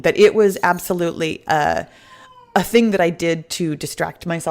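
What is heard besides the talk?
cat meowing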